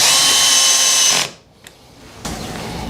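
A power drill driving a screw into a part of a PVC window renovation kit, a loud close whine that cuts off, a short tick, then a quieter resumed hum.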